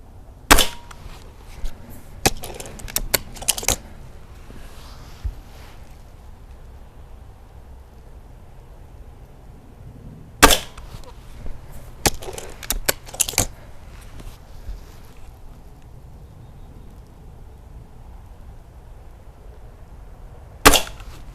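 A Gamo Fusion 10 air rifle fires Norma Superpoint Strike pellets, producing sharp, close cracks in clusters of about five shots with pauses between groups over a low background hum.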